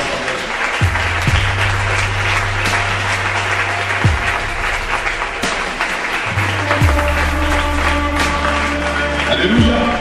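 Sustained audience applause at a Christian church conference on sexuality, steady and fairly loud throughout, with held musical tones and a low voice underneath the clapping.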